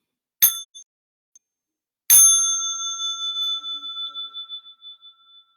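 A small meditation bell is struck twice, first a short bright tap, then a clear ring that hangs and slowly fades away alone in silence.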